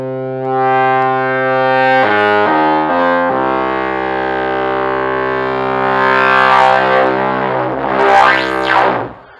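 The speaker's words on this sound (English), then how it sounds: "with the distortion, we can get some really nice gritty sounds" A synthesizer tone run through heavy distortion, buzzy and gritty, holding a sustained pitch that steps down briefly, then swells into a harsh, noisy sweep.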